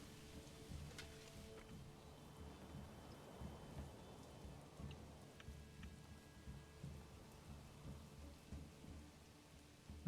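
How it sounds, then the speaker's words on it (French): A thunderstorm with rain in the medieval strategy game Manor Lords: soft, steady rainfall with low rumbling thunder rolling underneath, fairly quiet throughout, ending in a brief sharp burst. "On a des orages."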